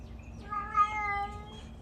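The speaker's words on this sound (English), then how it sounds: "That's the old cat." A cat gives a single drawn-out meow, clear and moderately near, over a quiet low background hum with no talk.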